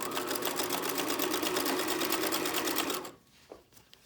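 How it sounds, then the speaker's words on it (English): A sewing machine stitches elastic onto a bralette, its needle hammering in a fast, even rhythm at close range for about three seconds before stopping, followed by a couple of faint handling clicks. "I'm pulling from behind with my left hand as I sew"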